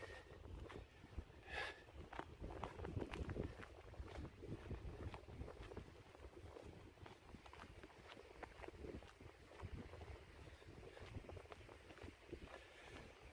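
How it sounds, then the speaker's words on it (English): Wind gusts at a canton high point near Zurich, a steady rumbling buffet against the microphone with faint rustles and a few light knocks, no speech. "Bit of a wind today."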